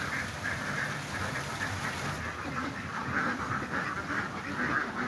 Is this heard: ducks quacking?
yes